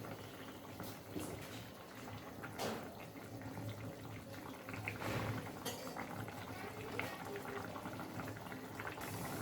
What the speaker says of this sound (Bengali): ঝোল ফুটে উঠেছে, অল্প কিছুক্ষণ জাল দিয়ে আমরা